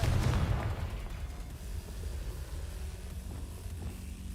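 A Confringo blasting spell in Hogwarts Legacy lands with a deep booming explosion at the start, then a rumbling low tail that fades into a dim cavern ambience.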